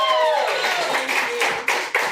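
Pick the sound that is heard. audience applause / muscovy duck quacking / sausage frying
audience applause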